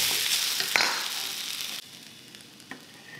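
Noodles and mixed leftover vegetables sizzle in a wok, a close, steady frying hiss with a stir clatter near the start that drops quieter partway through, no talk.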